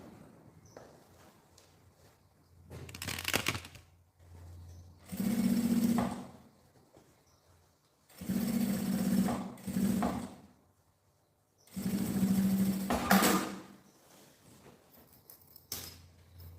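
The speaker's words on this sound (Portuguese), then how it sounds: "rebate a costura desse lado aqui também." A sewing machine topstitches a seam in several short bursts separated by pauses, each run a close mechanical whir, with faint handling sounds in the gaps.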